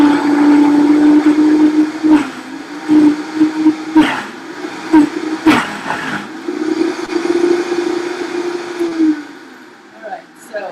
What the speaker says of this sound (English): So then we're just gonna blend it. And I do have a Vitamix.